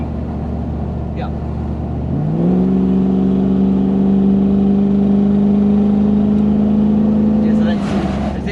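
A Toyota Hilux LN106 with a 1UZ V8 and automatic gearbox revs and climbs in pitch, then holds a steady drone as the transmission drops out of overdrive into fourth, loud and close from inside the cab.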